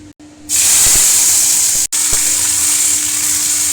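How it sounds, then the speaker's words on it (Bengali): Okra hits hot oil in a wok and erupts into a loud, steady hiss of frying that continues after a brief dip, with a couple of faint clinks along the way. "আমি হালকা করে ভিন্ডিগুলো ভেজে নেব।"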